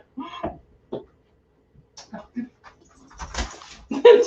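A dog that slipped into a home kitchen whimpers and pants in short, scattered bursts, interrupted by a throat-clearing sound, with some voices around it.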